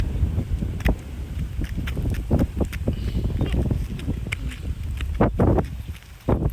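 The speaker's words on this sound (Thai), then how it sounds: "ลมเย็น" Cool wind blows across an open outdoor field of RD85 rice, buffeting the microphone as a steady rushing roar with scattered soft bumps and thuds throughout.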